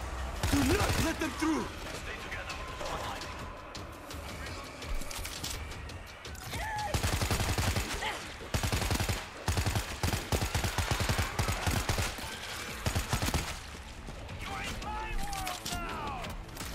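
Gunfire rattles almost nonstop in World War Z: Aftermath, with dense bursts of automatic shots and loud repeated cracks while players talk over the shooting.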